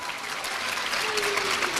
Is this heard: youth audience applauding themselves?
yes